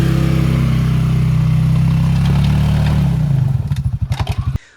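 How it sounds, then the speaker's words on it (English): A 2024 Can-Am Outlander Pro HD7 ATV in four-wheel drive climbs a hill, engine droning steadily up close, then its note drops into a rapid pulsing chug before cutting out abruptly. "I actually tested the four-wheel drive out on our new four-wheel drive hill climb."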